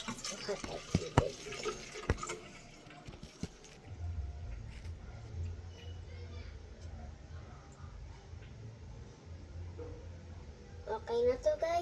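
Tap water running steadily into a pot for washing, a continuous close splashing stream after some earlier clanks and knocks of cookware, with a few voices talking nearby.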